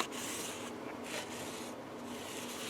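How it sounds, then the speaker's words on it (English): Nylon pantyhose rubbed back and forth across a Leo Jaymz double-cut SG-style electric guitar, a steady soft rasping swish near the mic with slight surges in the strokes, no talking. "When I rub this across it like this and nothing's snagging?"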